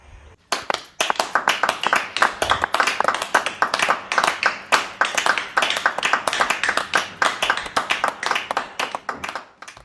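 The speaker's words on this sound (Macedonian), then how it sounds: "голем аплауз за луѓето кои ми ја вратија насмевката на моето лице" Loud, dense audience applause at the Zlatna Bubamara 2021 show: many hands clapping steadily and close for nearly the whole stretch, then cutting off near the end, with no talk.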